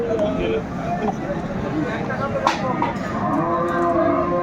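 A cow moos close by at a cattle market in Dinajpur, Bangladesh, a long low call heard over background chatter and ambient noise.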